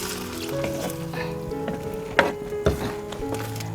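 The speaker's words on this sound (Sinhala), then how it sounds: "අපි දැන් කිරි ටික බණ්ඩක්ක ටිකකට එකතු කරනවා." Okra curry simmering and sizzling in a pot as coconut milk is added, a close, quiet bubbling hiss punctuated by a couple of sharp stirring clinks.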